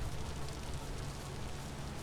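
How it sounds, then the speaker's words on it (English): Rain in the video game Vintage Story falls as a dense, steady hiss and patter, continuous and even throughout with no talking. "I don't think I've seen this much rain in this game before."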